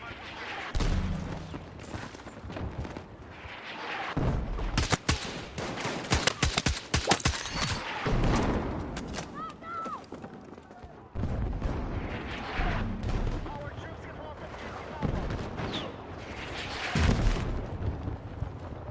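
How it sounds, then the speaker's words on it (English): Mortar shells exploding in a Battlefield video game, a series of heavy booming blasts and rattling gunfire in bursts, loud and close, with a player talking over parts of the barrage. "I am so sick and tired of this mortars"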